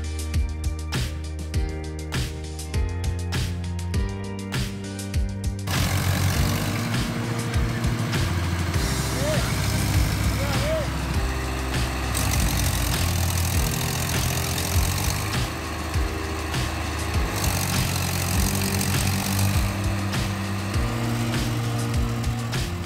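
A line of tractors sits with engines running in heavy rain in a village, a steady low rumble and chug continuing throughout, after an opening stretch with loud music playing.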